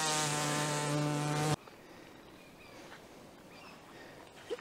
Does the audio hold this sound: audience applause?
no